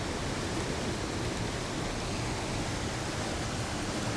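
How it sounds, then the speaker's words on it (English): A remote forest waterfall reached by a rough, trail-less route roars as a dense, constant wash of falling water, loud and close, with no voices. "Just a waterfall."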